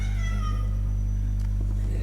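A cat meows a few times during an Islamic religious lecture, the cries rising over a steady low electrical hum in an indoor hall.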